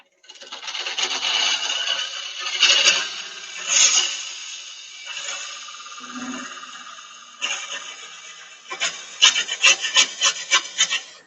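A parting cut begins on a wood-turning lathe as a tool bites into the spinning wood, giving a raspy, scraping hiss that comes in uneven bursts, fades in and out, then turns into quick rhythmic strokes near the end, close and with no speech.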